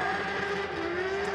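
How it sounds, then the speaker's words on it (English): Drift car on track, powered by a fully forged 500 bhp RB25 engine with a G-Force dog box, at a British Drift Championship Pro-Am qualifying round: a sustained engine roar, slightly distant, with pitch gradually rising and falling and no speech. "RB25, 500 brake horsepower, fully forged RB engine, running the G-Force dog box"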